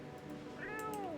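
A cat meows once in the video game No, I'm Not A Human, a clear, close, rising-then-falling cry over a faint steady background.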